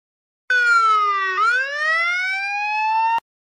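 A single police siren wail, loud and close, sliding down then rising again in one sustained tone for about three seconds before cutting off abruptly.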